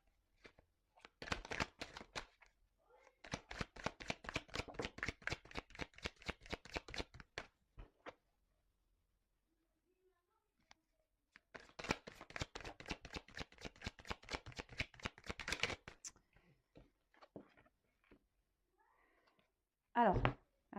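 Tarot cards cut and riffle-shuffled by hand, two long bursts of rapid close clicking and flapping with a pause between them, plus a brief final flurry.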